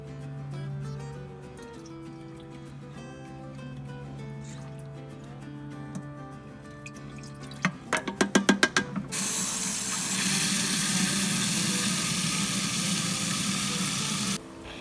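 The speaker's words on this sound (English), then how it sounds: "So I'm going to put 2 teaspoons and put it in my backpack sprayer." Liquid fertilizer is mixed into a backpack sprayer with water: quiet tonal background, then a short cluster of clicks and knocks, followed by a steady rushing pour or spray hiss that cuts off abruptly near the end.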